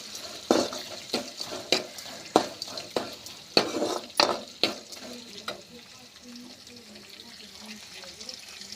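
Onions and dal frying in oil for a simple carrot poriyal, with a spatula scraping the pan in sharp regular strokes over a soft sizzle, close by, the stirring easing off toward the end.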